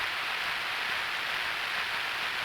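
Steady, dense rain falls in a video game scene, a continuous hiss with no breaks, fairly loud and heard alone without any talk.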